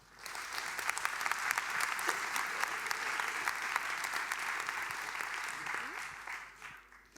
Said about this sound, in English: please give a warm round of applause for Jessica Hische